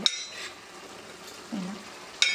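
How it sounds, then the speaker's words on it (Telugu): A curry being stirred in a pot after hot water is added, with a few sharp clinks of a spoon against the metal and soft scraping between them, close and fairly quiet. "ఇలా ఇలా వేసేసుకొని మళ్ళీ ఒకసారి మంచిగా నీట్గా కలిపేసుకోవాలి."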